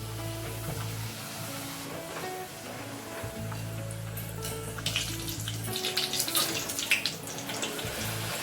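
Wheat bhatura sizzling in hot frying oil, a steady bubbling hiss that swells into louder crackling spatter partway through, close up, with a low background hum.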